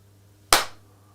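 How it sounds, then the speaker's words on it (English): A single sharp hand clap, close and loud, used to sync sound at a Warhammer 40k tabletop battle between Black Legion and Space Marines, ringing briefly and then decaying into a quiet room. "Try a clap again"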